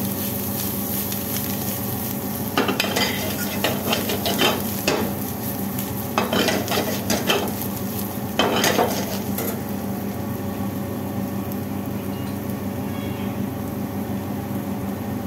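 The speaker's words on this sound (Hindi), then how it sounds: "सौते करेंगे।" Potatoes with cumin seeds and chopped green chili sautéed in a pan, a steady soft sizzle broken by several clusters of scraping, stirring strokes from a spoon against the pan.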